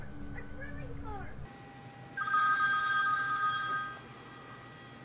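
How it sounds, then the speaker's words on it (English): Telephone ringing with a single bright electronic ring burst lasting under two seconds, fairly loud, after a brief stretch of someone talking. "pick up your phone."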